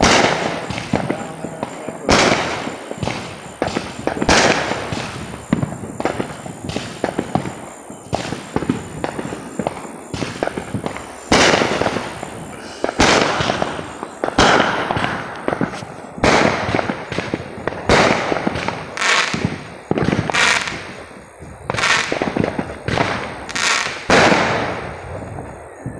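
Neighborhood Fourth of July fireworks and firecrackers burst in a long irregular series of sharp bangs and pops at middle distance, some loud, some fainter, with occasional voices talking between the blasts.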